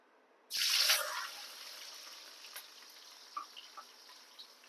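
Hot oil bursts into a loud hiss and splatter as egg noodles are poured into the pan, the sizzle then settling into a steady fry with scattered pops; no talking.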